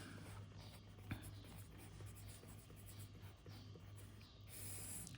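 Chalk or marker writing a heading on a classroom board during a biology lesson, a faint steady scratching over a low hum and room noise, with no voices.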